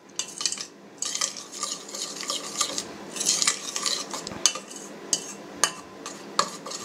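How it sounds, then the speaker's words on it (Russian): Homemade milk chocolate is stirred by hand with milk powder in a bowl as it cools, producing close, quiet, irregular scraping and clinking of a utensil against the dish, with no talking. "Тщательно перемешиваем, пока температура не упадет до 27 градусов."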